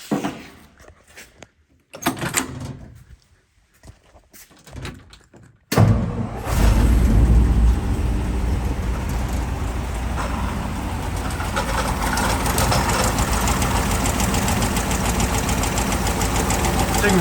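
A 1961 Ford F-250 4x4 with a 292 Y-Block V8 cold-starts after a few quiet thumps and cranking, then settles into a steady, loud, slightly lumpy idle that runs on without a break.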